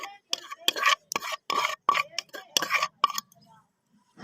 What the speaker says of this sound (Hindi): दही को अच्छी तरह मिक्स कर लेंगे